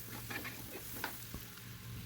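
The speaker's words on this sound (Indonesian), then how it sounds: "Sisa minyaknya kita pakai untuk tumis bawang-bawangan. Ini ada bawang merah dan bawang putih. Kita tumis sampai berbau harum." Shallots, garlic, bay leaves and galangal sauté in hot oil, giving a steady sizzle broken by a few light stirring scrapes and pops, close by and fairly quiet.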